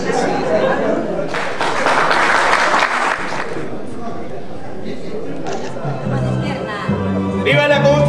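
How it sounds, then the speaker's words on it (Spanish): A crowd applauds at a gathering in defense of the right to water, a burst of loud clapping mixed with chatter and voices, with people talking and cheering close by as the applause gives way to speech. "Fuerte el aplauso entonces por el derecho al agua."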